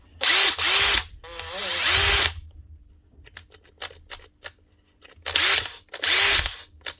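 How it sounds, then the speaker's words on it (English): A Makita DTD152 cordless impact driver on a workshop bench fires in short bursts: two long whirring runs, a scatter of quick clicks, then two more runs, loud and close. "The Makita impactor."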